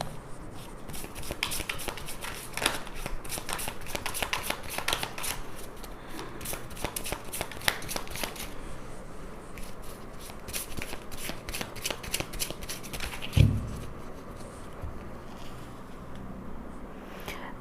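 Tarot cards shuffled by hand in a dense run of crisp riffling flicks for several seconds, then slower, sparser card handling with a single soft knock, close and quiet with no talk.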